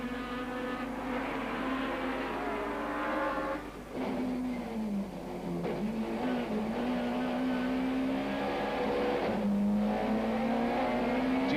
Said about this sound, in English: Joubert looked to miss a gear as they came out of Gestetner with Grant McCleary powering his way back into third place